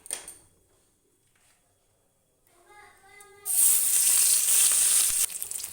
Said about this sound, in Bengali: কড়াইতে বসিয়ে দিয়েছিলাম তেলটাও গরম হয়ে গেছে। এবার মাছগুলোকে আমি একে একে ছেড়ে দেব।